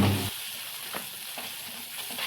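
Mushrooms with turmeric, red chilli and salt being sautéed in a pan give a steady, close hiss of frying with a few soft stirring taps.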